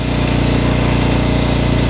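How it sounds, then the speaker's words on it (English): A Subaru engine on a red Homelite 5000 gasoline generator runs steadily at an off-grid home, a loud, close, continuous low drone with a regular pulsing throb and no talk over it. "What you're hearing is the engine, the Subaru engine, on the red Homelite generator in the foreground of the picture here."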